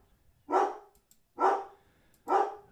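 Dogs bark at a neighbor and his dog standing by a front gate, three loud, separate barks spaced evenly about a second apart with quiet gaps between.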